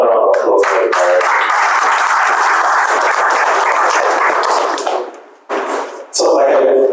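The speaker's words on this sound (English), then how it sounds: "this deserves another round of applause" A burst of loud, sustained applause from a press conference crowd, dense clapping that fades briefly near the end before swelling again.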